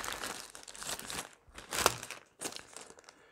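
Crinkling plastic bag holding Playmobil parts for a VW Bus T1 camper toy set, close and moderately loud, in several bursts of rustle with brief pauses between them.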